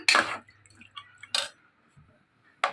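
Andhra mutton curry is mixed in a pressure cooker pot, producing three brief scraping, clinking strokes of a spoon with quiet pauses between them, near and alone.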